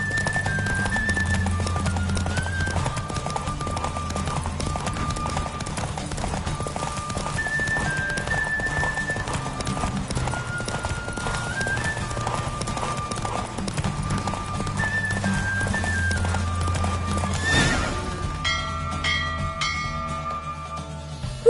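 Horse galloping in The Witcher 3 video game, with a steady clip-clop of hooves, bursts of game music and a neigh near the end, heard loud throughout with no talk.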